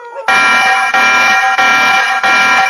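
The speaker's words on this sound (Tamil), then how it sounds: "அந்த வீட்டை பக்கத்துல வரும்போது அந்த சிசிடிவியோட அலாரம் அடிக்குது." A loud electronic CCTV security alarm rings close by outside a house in steady, repeating pulses of a harsh, buzzing tone.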